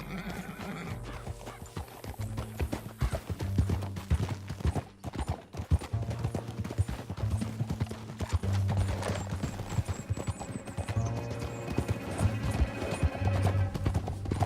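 Rhythmic clip-clop of galloping horse hooves in a western video game over a steady musical backdrop, with a horse whinnying at points; continuous and fairly loud.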